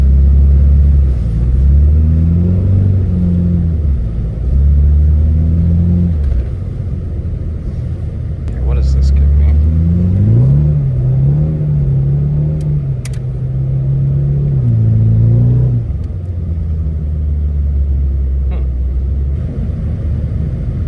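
Mitsubishi Eclipse engine driven for the first time in six years after a 5°F cold start, droning and rumbling close up with repeated rises and falls in pitch as it accelerates and shifts, and brief talk over it.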